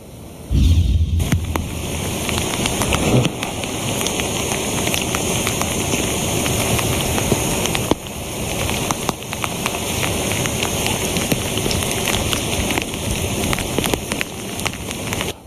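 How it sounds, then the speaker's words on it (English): Heavy rain pours steadily during live flood coverage in southwest Louisiana, a loud, continuous roar of downpour with a low rumbling thump near the start and no talking. "it seems like we're having some technical difficulties right now with all of that rain"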